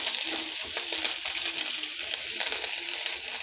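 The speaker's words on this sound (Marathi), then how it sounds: "कढीपत्ता आणि हिरवी मिरची हे टाकून व्यवस्थित परतून घ्यायचं।" Curry leaves and green chillies sauté in a pan of oil, giving a loud, dense, continuous sizzle with light scraping of stirring, close up and with no talking.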